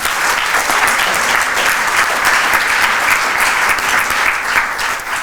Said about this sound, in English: Let's give all of our donors a round of applause,